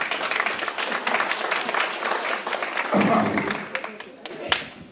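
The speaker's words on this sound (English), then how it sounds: "Thank you to our kitchen crew out here to give them a little hand of applause there." Audience applause for a kitchen crew at a St. Patrick's breakfast roast, steady mixed clapping across the room with crowd voices and chatter underneath, swelling briefly near the end.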